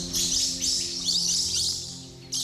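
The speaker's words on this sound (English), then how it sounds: "no sounds except the sounds of the birds" Birds chirp and tweet steadily in a remote, untrodden Indonesian forest, a continuous chorus of bright, overlapping calls close by, with no voices.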